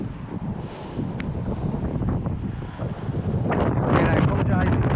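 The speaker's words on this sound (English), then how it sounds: "it is really windy today" Strong outdoor wind buffets the microphone at a lost railway station site, with broadband rumble that builds louder toward the end, and a voice talks faintly beneath the gusts.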